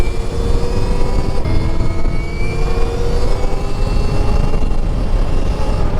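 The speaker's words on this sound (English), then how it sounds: "I'm riding the bike in mode 4 today, which I got set to 50 horsepower." A Stark Varg electric motorbike rides in mode 4, set to 50 horsepower, inside an abandoned Walmart. Its loud, steady electric whine carries gliding high tones over a heavy low rumble, close throughout.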